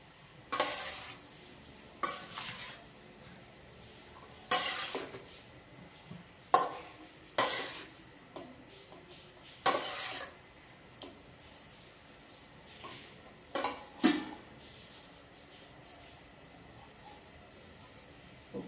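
A flat spatula stirs potatoes for Botad-style bhungla bateta in a pan, with repeated scraping strokes and metallic clinks at irregular intervals over a faint sizzle, close and fairly quiet.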